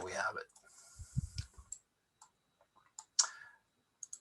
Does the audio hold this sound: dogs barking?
no